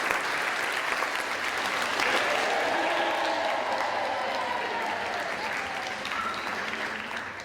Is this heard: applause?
yes